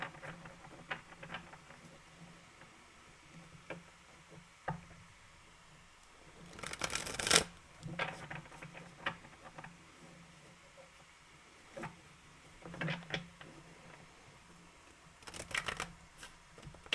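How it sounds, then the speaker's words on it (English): Playing cards riffle in quick crackling bursts, two longer shuffles separated by softer clicks and taps, close up with no talking. "we're going to shuffle it in 2 parts"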